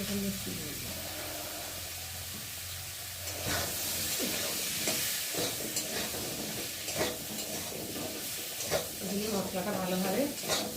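Ground spices, ginger paste and chili powder hit hot oil with a burst of sizzling, then fry with a steady crackle while a spoon stirs and scrapes the pan close by. Light talking comes and goes underneath.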